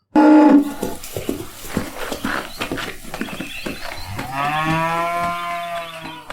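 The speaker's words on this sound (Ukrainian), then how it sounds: "The cow's angry too. That's not a cow. It's a bull." Angry bull bellowing loudly, one long deep moo after a sharp opening burst and shuffling noises, heard alone with no talk.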